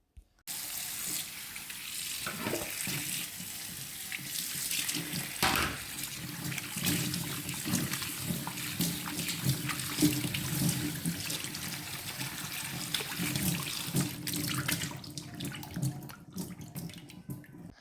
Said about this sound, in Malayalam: ഇനി ഇതൊക്കെ ഒന്ന് കഴുകി വൃത്തിയാക്കി എടുക്കട്ടെ.